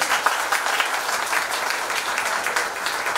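An audience claps loudly for a teacher at a felicitation ceremony for selected West Bengal Police constable candidates, producing dense, sustained applause with no pause.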